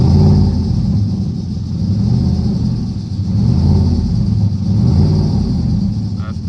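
A turbocharged Coyote V8 swapped into a Fox Body car idles steadily on first startup, a loud, continuous low rumble with a slight swelling pulse, close by and without talk.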